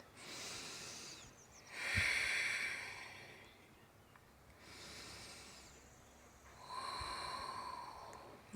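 Slow, deep breaths during a quad and hip flexor yoga stretch, three long inhale-exhale waves with airy hiss, one sharper nasal snort-like breath near the middle, close and soft with no talking.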